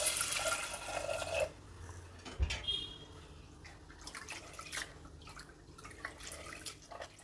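Toor dal (pigeon pea lentils) being rinsed in water inside a pressure cooker, with close splashing and dripping, a louder pour at the start and intermittent drips and sloshes afterward, no talking.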